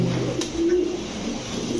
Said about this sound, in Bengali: এটি ইন্ডিয়ান কবুতর